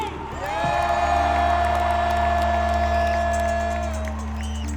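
Roaring arena crowd at a rock concert cheers and whoops in a sustained, loud wave, with a steady low hum and tonal stage sound running underneath, slowly easing toward the end.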